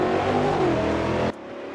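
Stock car engine in a sim racing game at Velo Citta, a loud, steady roar with a falling pitch as the car climbs uphill. Near the end it cuts abruptly to a quieter, more distant engine drone.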